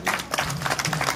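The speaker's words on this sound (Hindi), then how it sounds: "तालियां बजा दो भाई।" A small group of people claps briefly at a religious gathering, quick uneven hand claps close by, a short, lively burst with a faint murmur of voices beneath.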